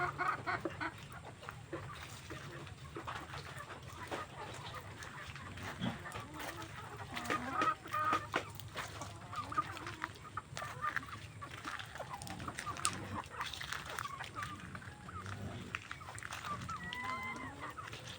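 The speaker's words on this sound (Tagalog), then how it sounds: "magpakain na tayo ng manok" Chickens cluck and chatter steadily amid a busy outdoor farmyard din, with occasional louder squawks and honks from poultry nearby.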